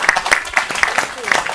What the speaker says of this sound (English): We can just give them a round of applause.